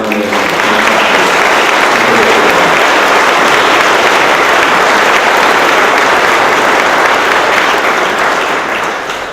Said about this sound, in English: if we could just one more round of applause for the designers and the contractors